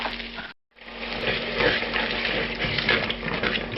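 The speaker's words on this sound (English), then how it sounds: "Now I added the chicken stock to this." Chicken stock poured into a cooking pot for jambalaya, a steady splashing gush of liquid after a brief silent gap, continuous and moderately close with no voices.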